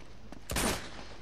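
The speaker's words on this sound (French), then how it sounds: "J'entendais des coups de feu" Gunfire in the Uncharted 2 video game: a single loud, close burst of shots lasting about a third of a second, with a fainter pop before it and another soft pop at the end.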